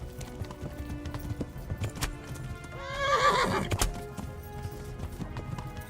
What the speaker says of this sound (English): Okay, the horse is running.